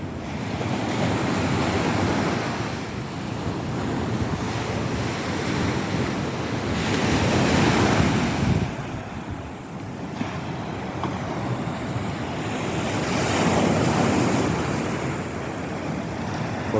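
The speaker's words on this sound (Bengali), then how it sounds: "দেখেন কত শব্দ, পানির কত বাতাসের কত শব্দ এখানে।" Outdoors, water and wind roar steadily together, waves or choppy water washing continuously with gusty wind buffeting the microphone, swelling louder at moments, no talking.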